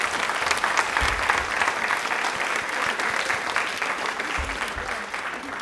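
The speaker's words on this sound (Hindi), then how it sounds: "तालियां एक बार जोरदार होनी चाहिए प्लीज।" A TV studio audience at a Women's Day special quiz programme breaks into dense, sustained applause that holds at an even level from start to finish, with almost no voices cutting through.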